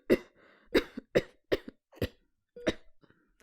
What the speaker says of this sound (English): Tokoyami coughed a few times.